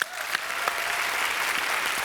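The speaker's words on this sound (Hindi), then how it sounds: "रवीना के लिए पहले जोरदार तालियां होने" A studio audience at a Hindi comedy show claps loudly for actress Raveena Tandon, dense, continuous applause at an even level.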